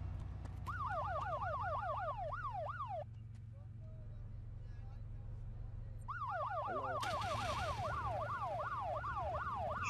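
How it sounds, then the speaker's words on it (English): A police siren in the video game ArmA 2 wails, sweeping up and down repeatedly over a steady engine rumble, cutting out briefly then returning loud and close, with game background noise. "Shut your sirens up."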